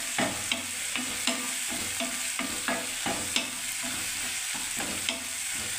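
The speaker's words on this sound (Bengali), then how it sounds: "একটু এই তেলের মধ্যে বন্ধুরা একটু গোটা জিরেও দিয়ে দিলাম। এবার আমি নাড়তে থাকবো।" Whole cumin seeds fry in hot oil with a steady sizzle while a utensil stirs them, its scrapes and taps recurring about every half second against the pan, close and clear with no talking.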